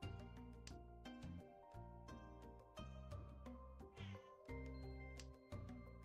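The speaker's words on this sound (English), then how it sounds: "My cat's yelling at me." A cat meowing and yelling loudly and insistently, a rapid series of close, strained cries repeating one after another with little pause.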